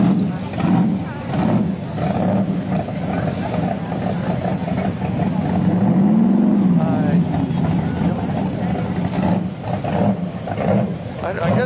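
A Chevrolet Camaro Z28 at an April evening car cruise in Redding rumbles loudly and continuously close by, its deep engine roar swelling midway, with people talking faintly underneath.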